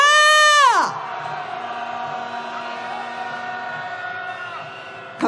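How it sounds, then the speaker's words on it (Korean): A falling, tonal sweep opens before a crowd at a candlelight protest march against corruption roars, a loud, sustained collective shout that holds steady for several seconds and then eases slightly. "함성 시작!"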